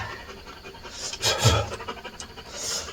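A dog pants after a hot desert hike, giving quick, breathy rhythmic puffs at close range with one louder burst midway and no talk over it.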